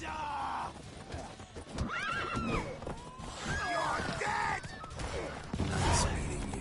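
Roach the horse in The Witcher 3 whinnies in rising, wavering calls amid hoof clatter, gunfire-like bangs and a busy game scene, with voices talking over the noise.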